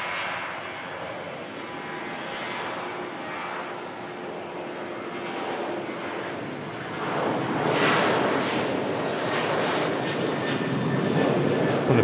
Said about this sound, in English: the first departures is TUI 737 out to Rhodes